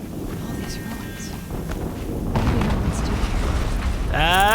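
An explosion in the video game Horizon Zero Dawn: a low rumbling burst swells up partway through over game ambience, followed by a warbling electronic sweep, with a voice talking over it.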